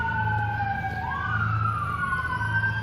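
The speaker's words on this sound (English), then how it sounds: "Unfortunately, there's ambulances going on and stuff like that" An ambulance siren wails steadily, its two-tone sweep rising and falling over constant street traffic rumble, fairly close and loud throughout with no talk.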